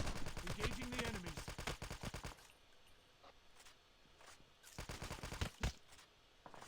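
Rapid automatic gunfire in Call of Duty Mobile rattles in dense bursts, falls quiet into background ambience, then returns with a few scattered louder shots near the end.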